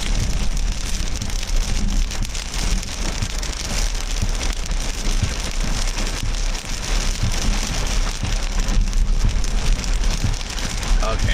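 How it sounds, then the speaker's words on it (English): A thunderstorm over Indiana brings steady heavy rain drumming on a surface, with a deep rumble of thunder beneath and a person talking faintly at times. "This thunder is so loud."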